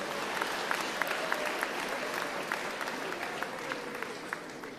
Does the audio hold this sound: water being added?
no